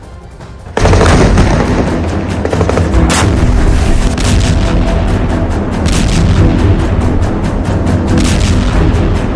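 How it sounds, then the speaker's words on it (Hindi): Artillery bombardment in Gaza during the Israel–Hamas war: a sudden onset of loud, dense, continuous booming and crackling blasts that rolls on without a break. "हमास को सबक सिखाने के लिए बारूद की बरसात की जा रही है"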